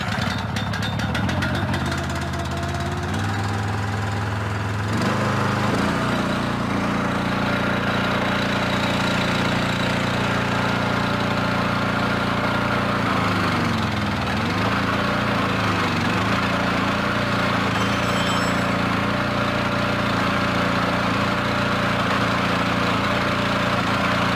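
Small engine on a Wolfe Ridge 35-ton compact commercial log splitter running steadily and loud for the whole stretch, with a shift in pitch partway through as the hydraulics load and ease, no talk over it.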